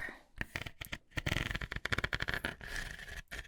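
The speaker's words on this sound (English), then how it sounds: "Sounds like a zipper, little zipper." Quick, raspy ripping bursts like a small zipper being pulled back and forth several times, close up and fairly loud, with no talking.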